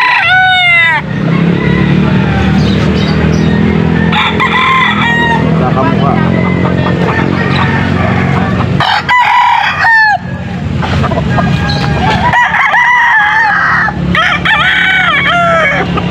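Young stag gamecocks crow repeatedly at a pet market in Angeles, Pampanga, with loud overlapping cock-a-doodle-doos and clucking over constant crowd noise, while people talk nearby.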